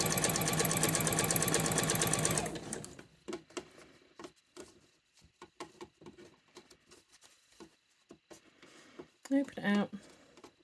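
An electric sewing machine stitches cord inside the piping of a cushion cover, giving a dense, fast mechanical rattle for about two seconds before it stops. Soft handling taps and rustles follow, and a brief burst of the machine comes near the end.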